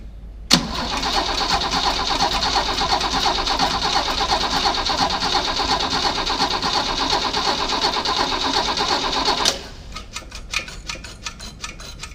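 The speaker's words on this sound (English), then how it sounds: "It's going to take a few seconds to start because that Carby is fuelless." A Holden Torana HJ/HZ engine cranks after a carburetor replacement, starting on a dry carby, then catches and runs steadily at close range for several seconds. It cuts off abruptly and light ticking follows.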